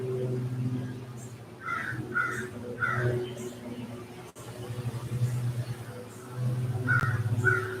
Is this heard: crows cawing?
yes